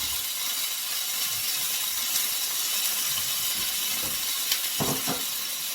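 Potatoes and pointed gourd fry in a spoonful or two of oil left over from frying fish, giving a loud, even hiss of sizzling with a few faint crackles near the end.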